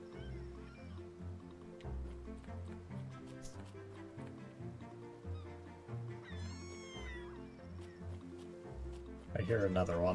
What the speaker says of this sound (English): I hear another one. How many cats am I going to have to feed?